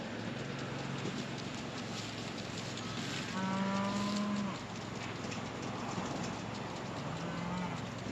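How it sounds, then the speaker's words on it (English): Cattle bawl and moo from some distance, a long low call standing out midway, with fainter answering calls before and after over steady outdoor ambience. "They're bawling back at me, but they're not coming up here."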